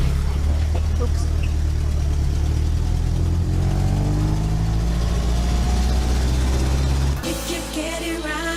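A little bus or car engine drones steadily at low pitch while riding toward a resort on Koh Mak, Thailand, with faint voices under it; near the end the engine note drops as the ride changes.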